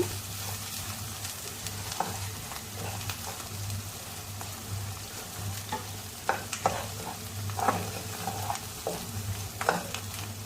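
Spices fry in a pan for masala semiya, a constant near sizzle under a low hum, punctuated by intermittent stirring clinks and scrapes, with no one speaking.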